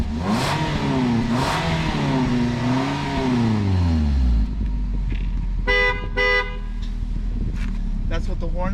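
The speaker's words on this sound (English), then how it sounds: "That's what the horn sounds like." A 2020 Nissan Rogue sounds its horn twice in short, close honks, after a stretch of talking over a low idling engine.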